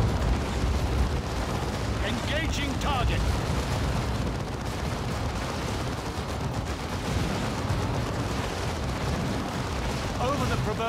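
Plasma guns fire amid a dense Warhammer 40k Dawn of War II battle, a constant roaring wash of weapon fire and explosions with no pause throughout.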